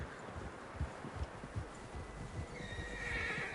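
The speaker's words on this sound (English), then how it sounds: "Horses, quite a few of them." Horses in a video game whinny over a steady patter of clip-clopping hooves, with rustling in the background and a higher neigh swelling near the end.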